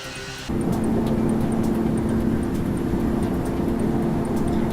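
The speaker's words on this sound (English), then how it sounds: "It is an Airbus A380 lifting off from Singapore Airport." A Qantas Airbus A380 taking off from Singapore's Changi Airport, a loud steady jet engine roar with a droning hum that swells in after a brief quieter start and holds constant, with no talking.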